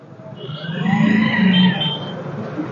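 A vehicle approaches and passes on a town road in Garhshankar during a nighttime blackout, its engine and tyre noise swelling to a loud peak and then fading, with faint voices in the background.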